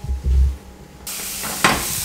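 Pão de queijo with cheese frying in a pan makes a steady, bright sizzle that swells suddenly midway and carries on with a brief sharper burst, close and alone after a few low bumps.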